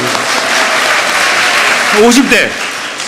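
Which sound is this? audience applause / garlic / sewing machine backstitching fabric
audience applause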